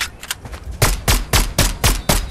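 Fortnite gunfire during the Pandora's Box live event, heard as six loud, evenly spaced heavy shots after a few fainter pops, each one a sharp broadband crack with a low thump.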